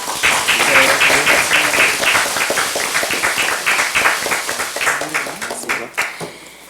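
Steady applause fills a Democratic Party recruitment ceremony, dense and continuous clapping from a crowd that gradually thins and fades near the end.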